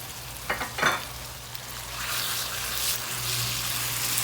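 Tilapia fish fries in a pot for a Haitian-style stew, a close sizzling hiss with a couple of early scraping clatters, then a steadier, louder frying crackle over a low hum.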